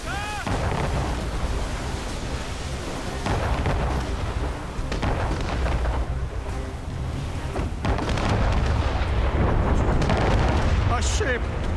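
Rumbling booms of ship cannons firing in the naval battle game Assassin's Creed Rogue, heavy continuous low thunder amid crashing waves and clamor, with voices calling out over it.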